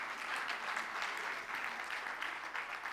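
Audience applause fills the space with steady, dense clapping that stays fairly even throughout, a broad crowd patter with no voices standing out.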